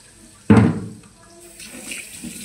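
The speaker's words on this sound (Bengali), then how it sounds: "এখন আবার ধুয়ে নিচ্ছি চালটাকে।" Rice being rinsed under running tap water in a kitchen: a sudden close splash of water rushes in, then eases to a softer, lingering trickle and wash.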